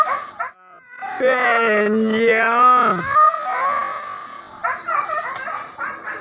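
Hunting dogs bay and howl during a wild boar hunt in Solok, with long wavering howls and yelps close by, broken by short yips and a voice.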